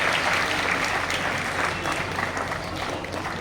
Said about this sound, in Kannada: ಎಲ್ಲರೂ ಅವರ ಚಪ್ಪಾಳೆ ಮೂಲಕ ಅವರನ್ನು ಗೌರವಿಸೋಣ